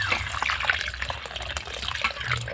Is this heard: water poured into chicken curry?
yes